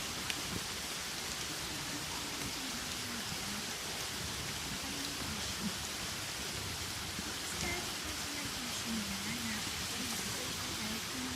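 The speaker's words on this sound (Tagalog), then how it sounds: "Umuulan na." Steady rain hisses evenly throughout, with a faint voice murmuring underneath at a distance.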